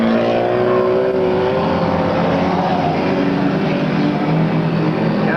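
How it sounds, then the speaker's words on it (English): Race cars on a racing oval roar past in a loud, continuous wash of engine noise, several motors droning together with shifting pitch as they run down the track. "Five of Danny Dueron jumps way out in front. 95 of Eric Hoyt falls on behind him."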